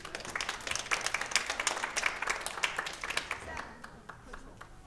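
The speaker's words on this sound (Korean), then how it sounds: "박수 맞춰주세요." A church congregation claps during a Sunday morning service, a brief burst of sharp, close claps that tapers off toward the end, with some voices mixed in.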